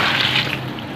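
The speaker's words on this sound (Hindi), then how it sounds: "3 किलो हमारे चावल हैं तो हम टोटल इसमें 24 प्याले जो हैं हम इसके पानी के ऐड करेंगे" Water pours steadily into a large cooking pot for a chicken pulao made with 3 kg of rice, a close, loud continuous splashing gush that eases slightly toward the end.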